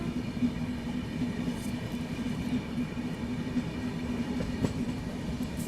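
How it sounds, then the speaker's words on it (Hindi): Sachkhand Express rolls along the rails near Karnal, a continuous rumbling drone with faint rhythmic wheel clatter, heard from inside the moving train. "सचखंड एक्सप्रेस, थोड़ा तेज चलो भाई, 5 बजे तक तो दिल्ली पहुंचा दो।"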